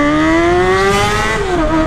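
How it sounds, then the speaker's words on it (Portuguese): A loud Honda Hornet motorcycle engine roars steadily up close, its pitch climbing gradually and then dipping near the end. "O ronco é aquele ronco que, mano, vocês conhecem, o ronco da Hornet"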